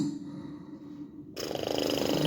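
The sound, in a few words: storyteller imitating the wolf's loud snoring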